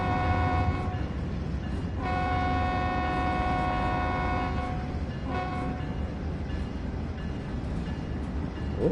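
A pair of EMD SD40 freight locomotives rumble past in the Train Sim World 3 game on the Cajon route. A loud, steady drone of engines and rolling cars fills the whole stretch, and sustained horn tones come and go.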